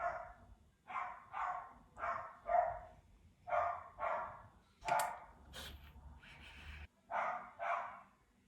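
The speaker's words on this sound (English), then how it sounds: "Oh, that's my dog barking." A dog barks indoors in a home, a steady run of about a dozen evenly spaced barks in rhythmic pairs and threes, moderately distant and fairly soft, with no talking over them.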